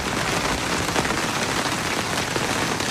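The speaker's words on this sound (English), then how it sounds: "The sound of the rain is unsettling." Steady rain pattering on a surface, dense and continuous, with no voices.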